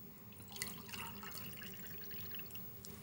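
Drink being poured into a glass in a TV studio, a faint, steady liquid trickle with small splashy drips lasting a few seconds.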